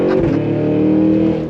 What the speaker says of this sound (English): We're gonna do launch control.